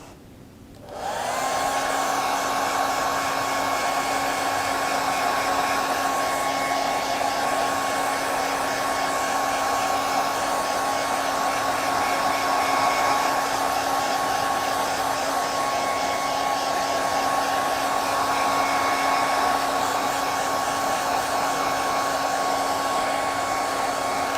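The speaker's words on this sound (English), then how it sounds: "I'm going to take my blow dryer and dry what we have so far in place." A hair dryer starts up abruptly to dry paint and runs at a steady, loud whine, a constant blowing drone that continues without a break.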